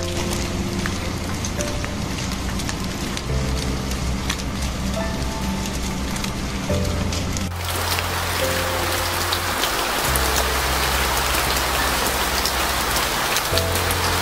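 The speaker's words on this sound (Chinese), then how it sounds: "很快就下起了瓢泼大雨" Heavy downpour drumming on a simple shelter beside a lake, a dense, continuous hiss of rain up close that swells louder and fuller partway through.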